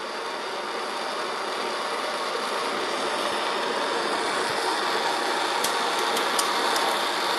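A blowtorch reheats a tin solder joint on copper pipe with a steady, loud roaring hiss held evenly throughout, broken by a few faint ticks near the end and no talk.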